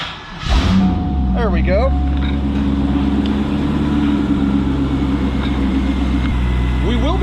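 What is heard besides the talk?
Chevrolet C5 Corvette 5.7 liter LS1 V8 engine starting and idling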